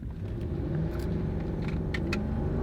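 An old V8 luxury car pulls away hard from a standstill, heard from inside as a steady, smooth low engine rumble with faint cabin rattles and clicks, no voices.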